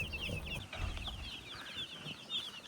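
Chickens on a village farm give soft repeated clucks and peeping calls, faint and somewhat distant, with low rustling and handling noise underneath.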